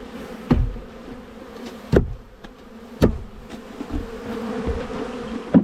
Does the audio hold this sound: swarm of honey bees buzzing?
yes